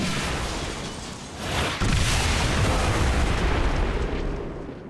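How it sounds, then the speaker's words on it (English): A Bombard explosion in the XCOM 2 War of the Chosen video game, loud, with a sustained roaring boom that swells again midway and rumbles on for several seconds. "So this unfortunately just counted as two separate explosions"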